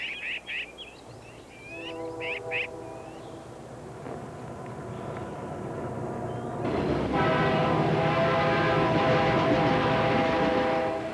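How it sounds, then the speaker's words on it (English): A train on the Trans-Canada Railway crossing the mountains through the Bow Valley, sounding long sustained horn tones that swell into a louder, rumbling pass after brief birdsong at the start. "The Trans-Canada Railway crosses the mountains through the Bow Valley."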